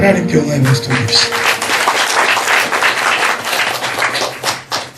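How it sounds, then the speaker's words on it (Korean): A church congregation claps together in praise, a dense, steady patter of hands filling the room, with singing or voices briefly audible under it at the start. "우리 하나님께 영광의 박수 드립시다."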